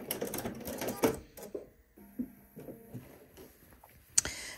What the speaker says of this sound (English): And sew that case shut.